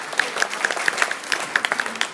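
A short round of clapping from a small audience, quick scattered claps forming brief applause.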